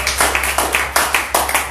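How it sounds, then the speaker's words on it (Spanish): Rhythmic clapping from a church congregation during a Spanish-language evangelical service, sharp bursts landing roughly every fifth of a second, close and steady, with no voices over it. "Denle un aplauso al Señor."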